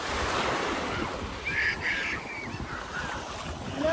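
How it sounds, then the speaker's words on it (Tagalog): Ocean waves breaking on a beach at Puerto Galera, a continuous rushing surf wash with moderately strong swells, heard fairly close and steady with no talking. "So, parang medyo malakas yung alon, no?"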